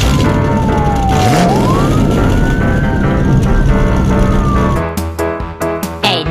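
An animated German police car siren wails in long sweeping tones, loud and close, then breaks off into short choppy bursts near the end.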